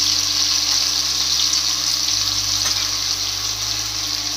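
Potatoes with turmeric frying on high flame in a pan after okra has been removed, giving a steady, loud, close sizzle that holds without a break.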